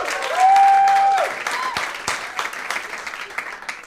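Audience at a live debate breaking into applause and cheering, loud and dense at first then thinning into scattered claps, with a brief whistle-like tone near the start.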